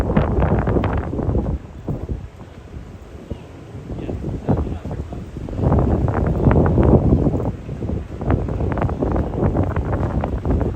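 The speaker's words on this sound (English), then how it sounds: "It's a bit of a windy day" Heavy wind buffets the microphone in loud, low rumbling gusts that rise and fall throughout, with no clear voices, outdoors by the High Line in New York City's Meatpacking District.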